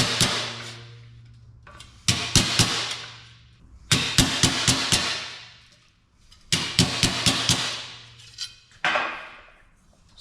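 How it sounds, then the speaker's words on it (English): Sheet metal being folded by hand with a hammer and dolly on a steel bench rings out in sharp metallic blows, fired in quick bursts of three to five strikes with lingering ring and short pauses between, close and loud. "So I'm just going to slowly work my way around with the hammer and dolly on the steel bench"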